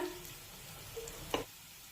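Turmeric and red chili powder sizzle softly in hot oil with a fried coconut paste for Marathi-style tomato saar, a low steady frying hiss with one brief stirring scrape near the end.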